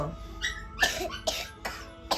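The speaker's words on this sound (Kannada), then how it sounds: "ಅಯ್ಯೋ ಏನು ಕೆಮ್ಮು ಬರೀತು" A series of five harsh, separate coughs in close succession, loud and near, with short pauses between them.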